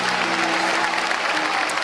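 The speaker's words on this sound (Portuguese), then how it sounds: "Aplauda ao Rei Jesus e tome o seu assento." A church congregation applauds in a dense, continuous wash of clapping that fills the hall, steady and loud throughout the short burst.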